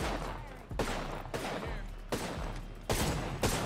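Gunfire in the battle royale shooter Apex Legends, several separated bursts of shots at fairly low level spaced across a few seconds, with game ambience between them.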